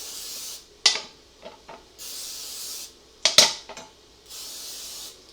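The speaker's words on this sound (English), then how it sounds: "if you spray them with Pam beforehand, you'll have less chance of stickage" Cooking spray hissing onto metal burger rings in a kitchen, several steady spray bursts of a second or so each, separated by short clicks and clatters, close and fairly loud with no talking.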